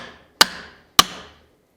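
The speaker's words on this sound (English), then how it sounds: "So now we're ready to break the base studs free with the mallet." Two sharp mallet blows strike the base studs of a bicycle suspension fork to knock them loose from the lowers, each a crisp close knock with a short ringing decay, about half a second apart, with no talk.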